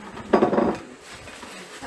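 A utensil scrapes and clinks against a pot as sugar is stirred into soft, cooked beetroot halwa. There is a short burst of busy scraping, then quieter stirring for a few seconds.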